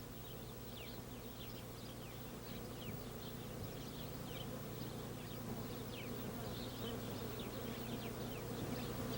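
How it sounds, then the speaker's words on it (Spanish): A steady, dense buzzing of a colony of ground-nesting bees close to the ground in the desert, continuous and even throughout with no voices. "Muy cerca de estos árboles nos encontramos con una fantástica colonia de abejas que viven apegadas al suelo"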